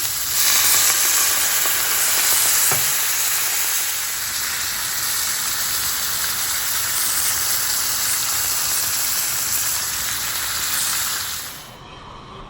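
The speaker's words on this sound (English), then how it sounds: "So to make it sizzle and to impress your friends, all you got to do is add a little bit of water." A hot pan of chicken fajitas sizzles loudly after a splash of water, giving a strong, steady steam hiss that holds for several seconds and then cuts off near the end.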